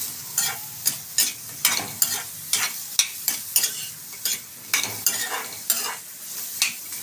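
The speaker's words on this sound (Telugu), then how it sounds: "ఇప్పుడు మనము ఉల్లిగడ్డలు వేయించుకుందాము." Thinly sliced onions fry in a pan with a steady sizzle, broken by repeated scrapes and stirs of a spoon at a fairly regular pace, close up and with no talking.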